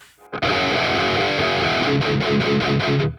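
Electric guitar run through an 808 overdrive plugin on a Neural DSP Quad Cortex, playing loud, sustained distorted chords that ring out steadily for about three seconds with no talking.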